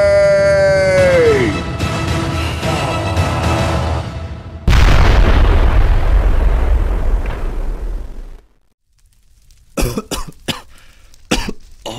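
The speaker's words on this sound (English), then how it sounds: "What an explosion." A loud, booming explosion in the Minecraft video game, set in a custom-mod Christmas adventure, bursts in after a falling tone and roars for several seconds before cutting to near silence, followed by a few sharp pops.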